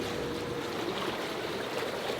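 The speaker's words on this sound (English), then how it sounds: "And that's what the bubbles look like." An Intex PureSpa inflatable hot tub runs its bubble massage, making a steady, dense bubbling and frothing rush of water. It is close and continuous, with no talking.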